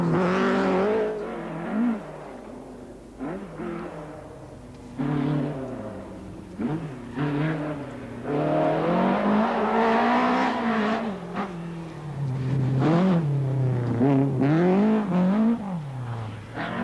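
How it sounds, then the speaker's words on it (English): A two-wheel-drive Nissan rally car's engine revs and roars through the trees on a forest stage of the 1985 Lombard RAC Rally, rising and falling as it accelerates and shifts, loud and close, with no speech. "Terry Cabe's Nissan appearing from behind the trees. See the back swinging out."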